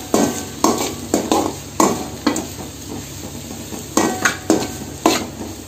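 A capsicum and salt mixture is stirred in a hot pan for capsicum rice, giving loud repeated spoon scrapes in an uneven rhythm over a continuous frying sizzle, close to the mic.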